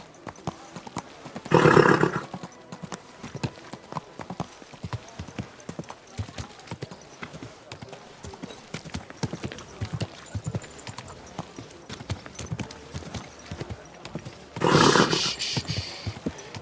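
Steady clip-clop of horse hooves in the video game Kingdom Come: Deliverance 2 throughout, with two louder bursts of noisy commotion near the start and end, and a voice speaking briefly.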